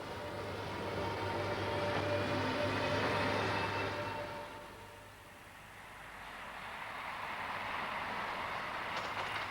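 An electric locomotive pulls a train past, a loud steady rumble and rolling roar that swells, dips briefly mid-pass and builds again, with a constant low electrical hum underneath and no voices.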